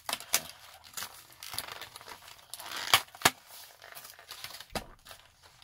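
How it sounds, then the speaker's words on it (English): A sturdy cardboard box is torn open by hand, with sharp ripping bursts and crinkling packaging between quieter pauses, close and fairly quiet. "This box is really sturdy, so I'm just gonna have to rip it from the front."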